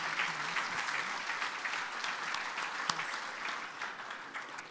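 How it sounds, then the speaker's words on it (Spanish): An audience at a presentation gives steady applause, a sustained patter of many hands clapping at a moderate distance with no voices over it. "luego de eso un fuerte aplauso, por favor."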